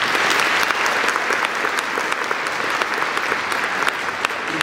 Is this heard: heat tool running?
no